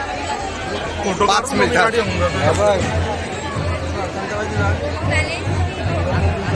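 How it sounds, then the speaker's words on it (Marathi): Dense crowd chatter fills the Mahalaxmi temple in Kolhapur during a busy festival month, a close, continuous babble of many voices with a nearby speaker talking over it. "पण महालक्ष्मीला भरपूर गर्दी आहे."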